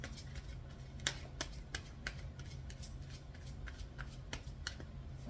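Tarot cards being shuffled and drawn by hand: a quiet, close run of crisp card flicks and riffles in quick irregular bursts, heard alone without talk.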